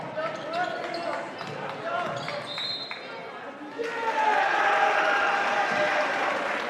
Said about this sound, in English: Wahpeton fans cheering